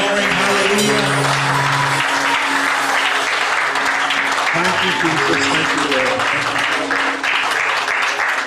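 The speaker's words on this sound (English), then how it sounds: "Let's give him another clap offering" A church congregation claps loudly and continuously during a morning worship service, with voices calling out over the applause and a brief sustained tone at the start.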